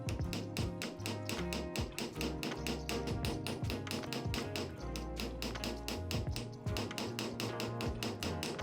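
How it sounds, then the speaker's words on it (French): Rapid, steady light hammer taps strike brass heart earrings resting on a rubber block, a continuous tapping under a dense, layered background. "Donc là on va venir marteler de façon très simple"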